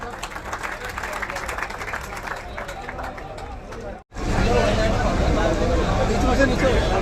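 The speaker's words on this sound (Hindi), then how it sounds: "एक बार जोरदार तालियों के साथ उनका स्वागत करें।" A large crowd greets a party leader at a political rally with loud, sustained applause and hubbub, with a brief break before it swells even louder.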